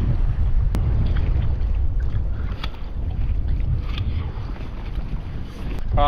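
Small fishing boat cruising on open water in strong wind, a steady loud engine drone with wind buffeting the microphone and no talking.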